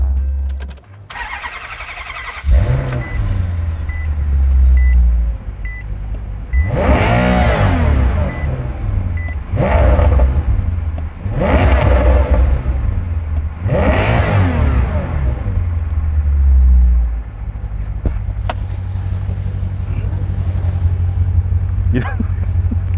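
Maserati Quattroporte M139 engine starts, then revs loudly several times in rising and falling exhaust sweeps before settling to a deep idle, close by, with people talking at moments.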